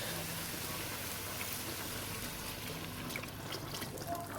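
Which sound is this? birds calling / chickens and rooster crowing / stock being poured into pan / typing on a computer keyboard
stock being poured into pan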